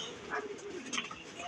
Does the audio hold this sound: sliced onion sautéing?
no